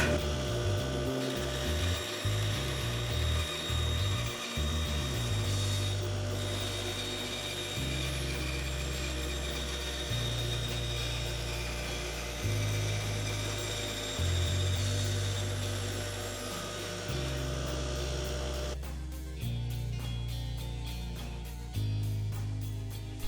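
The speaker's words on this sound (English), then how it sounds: "go over to the bandsaw and cut these out" A bandsaw cuts out wood pieces for a curtain cornice, a steady motor hum with irregular rasping and shifting tone as the blade works through the board, near and without talking.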